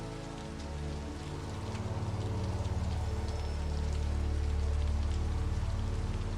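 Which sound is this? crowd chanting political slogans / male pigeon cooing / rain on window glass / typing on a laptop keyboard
rain on window glass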